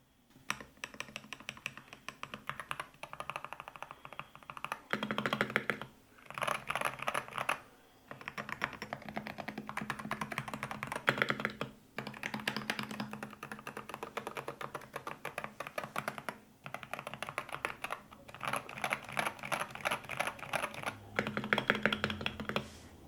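Brisk typing on a Wooting 60HE mechanical keyboard, clacky keystrokes in quick bursts separated by short pauses, close and clear with no talking.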